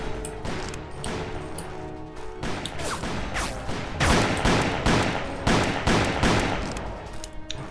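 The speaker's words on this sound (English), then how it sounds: "Semi-auto pistol." Semi-auto pistol gunfire from the video game Call of Juarez, with loud, sharp shots fired in quick irregular bursts. The barrage grows denser and more rapid toward the end, with no talking over it.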